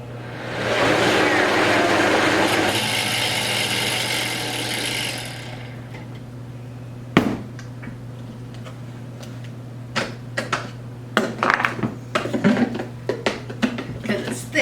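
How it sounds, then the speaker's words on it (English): A blender labors through a thick pumpkin mixture, its blades gumming up: a loud grinding whir for the first few seconds, then a lower steady hum with scattered knocks and clatters as the motor struggles. "Because it's thick, so it kind of gums up in the blender blades when you first start."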